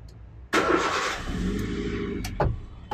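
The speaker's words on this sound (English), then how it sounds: "Let's just check by cranking the engine." A car engine cranks and catches through a newly installed racing ignition switch: an abrupt loud onset, then a sustained rough churning roar that settles into a steady run, with a couple of sharp clicks near the end.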